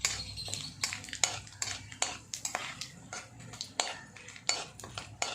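Shahjeera seeds frying in a pan for a carrot khichdi, with a spoon scraping and tapping against the metal in a steady series of clinks over a faint sizzle, close and moderately quiet.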